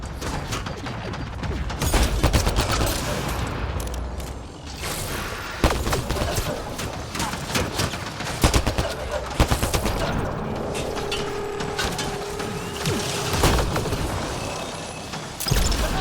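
Gunfire from the video game Mass Effect: Andromeda, dense bursts of shots and rapid fusillades running continuously and loudly throughout, with mechanical clanks mixed in.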